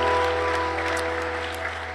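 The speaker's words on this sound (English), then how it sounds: "A round of applause" Audience applause at a Sunday church gathering, a steady wash of clapping held for two seconds with no voices over it.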